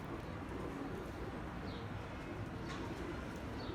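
Pigeons, including mustached fancy breeds, cooing softly in a loft, low murmuring calls over steady background noise with faint higher chirps.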